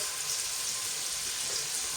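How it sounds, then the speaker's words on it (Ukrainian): Potatoes arranged in a skillet with bacon frying, giving a steady, close hiss of sizzling fat throughout, with no voices. "Так, і хай смажиться."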